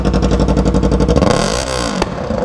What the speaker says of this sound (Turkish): Debriyajda egzoz patlat son kez